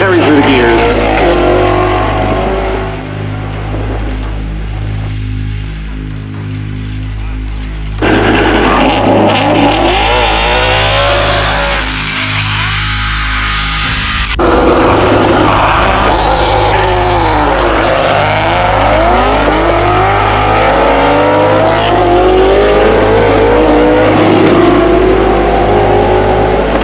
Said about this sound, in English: GT350 tearing through the gears.